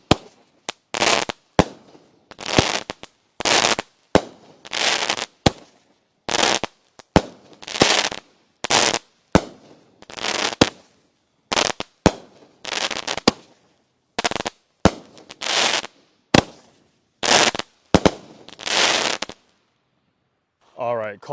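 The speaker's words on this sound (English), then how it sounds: "This is Wild One by Miracle Fireworks." Wild One mini NOAB fireworks by Miracle Fireworks with a 1-inch bore fire a long sequence of sharp, loud bursts, each launch followed by a crackling break, at an irregular rhythm of about one or two shots per second, with no talk.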